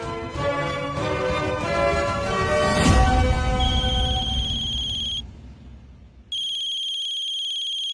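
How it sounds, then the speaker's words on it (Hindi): An electronic phone ringtone plays loudly, a melodic tone sequence followed by a repeating high beeping ring after a brief pause. "शनाया ने कांपते हाथों से फोन उठाया"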